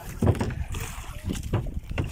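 A fishing boat moving on open water, with wind buffeting the microphone and low rumbling splashes, steady and fairly close.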